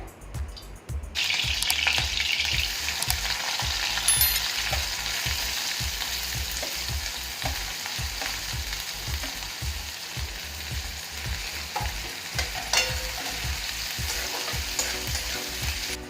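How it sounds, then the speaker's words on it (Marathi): Hot oil sizzling loudly and steadily in a heated kadhai, with rhythmic low knocks underneath throughout. "कढई पण आपली तापलेली आहे, आपण त्याच्यामध्ये तेल घालूया।"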